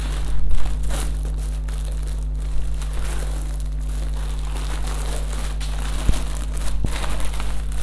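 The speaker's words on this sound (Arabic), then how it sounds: "ده طبعا كله لازم يخرج كده بره الكيس ونشوفه سوا" Craft foam sheets, white on the back with a reflective coloured face, are pulled out of a plastic bag. Close, steady plastic crinkling and rustling with a few sharper rattles, over a constant low hum, with no talking.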